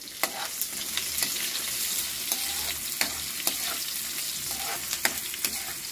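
Carrots fry in a hot pan while being stirred, a steady sizzle punctuated by regular scraping and clacking strokes of a utensil, close and fairly loud with no voices.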